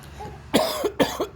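A man coughs in a short burst of four harsh, close coughs, loud and alone, with a faint murmur just before.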